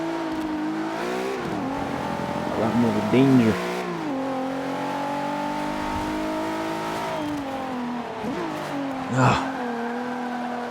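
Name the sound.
Infiniti Q50 engine accelerating in video game Forza Motorsport 5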